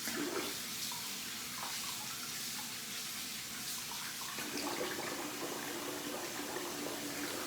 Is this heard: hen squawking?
no